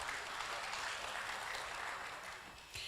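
An audience at a Lisbon forum on social responsibility applauds in a dense, continuous wash of clapping that thins slightly toward the end before swelling again.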